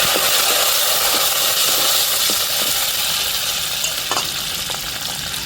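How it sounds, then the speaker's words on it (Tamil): Curry leaves hit hot oil for a fish curry, giving a loud, steady sizzle that runs throughout with a few short crackles and stirring clicks. "இப்போ கருவேப்பிலை சேர்த்துக்கிறோம்"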